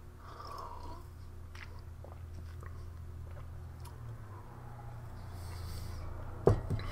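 Soft, wet chewing of canned pears in syrup from a military ration pack, close and quiet over a low steady background hum, ending with a sharper knock or bite.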